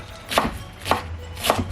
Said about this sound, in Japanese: 皮付きのまま薄切りにしていきたいと思います。